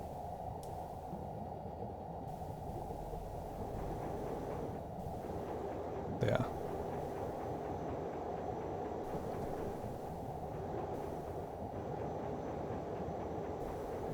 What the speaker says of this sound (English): That sounds like quite a powerful engine.